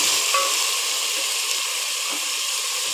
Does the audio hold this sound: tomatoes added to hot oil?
yes